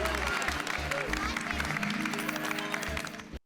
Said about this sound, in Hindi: तो एक बार जोरदार तालियां अब्दुल भाई के लिए